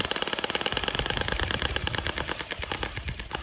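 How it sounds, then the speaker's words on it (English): Orbeez gel blaster toy guns firing in rapid automatic bursts, a dense, fast rattling patter with a motorized whir, close and steady for a few seconds with no talking. "So the kids got these Orbeez guns"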